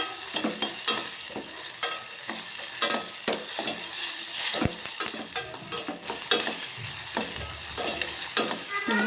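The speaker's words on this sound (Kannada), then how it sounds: "ಒಂದು ಸ್ವಲ್ಪ ಹೊತ್ತು ಎಣ್ಣೆಯಲ್ಲಿ ಒಂದು ಸ್ವಲ್ಪ ಫ್ರೈ ಆಗಬೇಕು ನೋಡಿ" Tomatoes, red chilli and green chillies fry in hot oil for a chutney, with a steady loud sizzle broken by repeated scraping strokes of a stirring spoon, and no talk.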